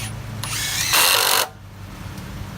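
Hitachi WH36DB 36-volt cordless impact driver sinking screws into wood, a close, loud whirring burst that rises into a hard hammering rattle for about half a second, then cuts off to quiet.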